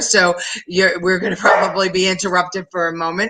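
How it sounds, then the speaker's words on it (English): A pet dog barks at home, its short barks partly buried under a man's continuous speech. "oh, that's my dog barking"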